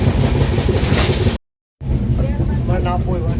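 A train arrives at NJP (New Jalpaiguri) station on a Kolkata to Darjeeling journey, giving a loud, steady rumble that cuts out briefly, with voices over it.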